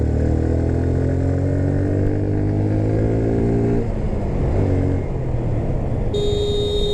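A Harley-Davidson Fat Boy motorcycle being ridden, its loud engine rumbling up close with a pitch that falls as it slows, then a rougher steady throb, with a short high electronic beep near the end.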